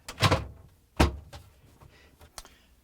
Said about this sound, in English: Put it on the rails, on the supports, and slide it in and push it in.